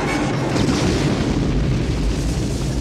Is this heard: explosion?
yes